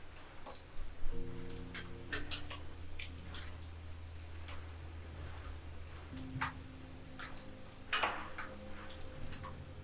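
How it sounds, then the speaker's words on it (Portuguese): Rain falls in the video game Marvel's Spider-Man 2, a soft hiss with scattered ticks and drips under low sustained music tones, fairly quiet and steady throughout with no speech. "Uma chuva aqui, galera."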